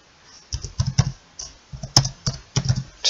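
Code being typed on a computer keyboard during a Small Basic programming lesson, quick irregular bursts of close key clicks with brief pauses between words, no voice.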